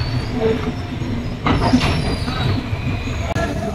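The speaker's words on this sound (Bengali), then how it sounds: "অবশেষে ট্রেনটি পৌঁছালো কামাখ্যা স্টেশনে 2 ঘন্টা 20 মিনিট লেট করে" The Kamakhya Capital Express rolls into Kamakhya station with a steady rumble and wheel noise, brief squeals rising over the clatter, and faint voices in the background.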